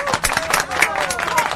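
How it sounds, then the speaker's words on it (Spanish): Applause from a crowd for a Uruguayan basketball league champion's birthday, steady mixed clapping with crowd murmur and speech-like babble throughout, fairly loud and close. "para quien pide un aplauso por su aniversario"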